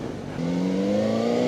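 A Voge RR500S inline-four motorcycle accelerates, its engine note climbing in a rising, near whine that builds steadily over a brief moment.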